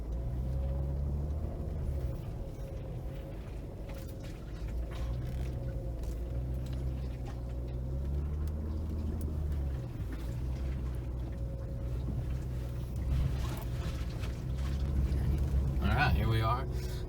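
Vehicle driving off-road on a rutted dirt trail up Thomas Mountain in California, a steady low engine drone with rattles and creaks from inside the cabin, plus a brief voice near the end.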